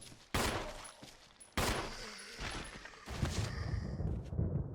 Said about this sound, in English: just fire a few more rounds off